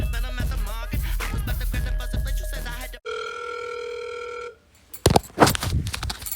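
A telephone rings with a steady electronic tone for about a second and a half, cutting in suddenly after loud music and followed by a brief pause before talking begins.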